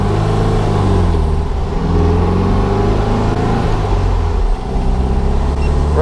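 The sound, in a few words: 1961 VW Beetle driving on a test drive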